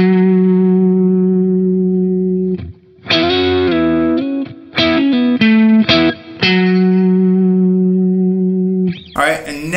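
Overdriven electric guitar plays an intro at normal speed: a sustained chord, then a quick run of sliding notes, then rings out again; loud and close, no voices.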